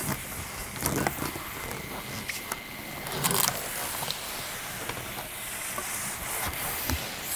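A steam mop gliding over a teppanyaki cooktop gives a steady close hiss of steam with soft scrubbing swells and a few brief louder bursts, continuous throughout with no talking.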